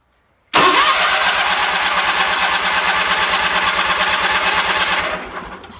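A Roper RT16T garden tractor engine cranks and catches abruptly, running loud and rough with a steady pulsing beat for about four seconds before fading out as it dies.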